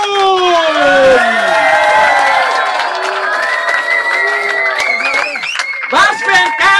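A wrestling-show audience applauds and cheers loudly and without a break after a fight. Whistles and shouts rise over steady clapping, and an excited voice calls out near the end.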